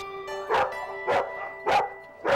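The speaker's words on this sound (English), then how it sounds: "His bark was worse than, well, just about anything, because it went on and on and on." A dog barks repeatedly in a steady rhythm, four loud close barks about half a second apart over a faint sustained tonal hum.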